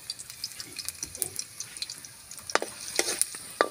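Garlic fries in a pan, a faint steady sizzle with occasional stirring clinks and scrapes, close and quiet.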